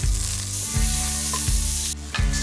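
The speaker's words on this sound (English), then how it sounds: "We're putting it in the pot. And we got to brown these off." Meat shanks browning in a hot pot give a loud, steady sizzle and crackle, with a few clunks as the pieces are shifted.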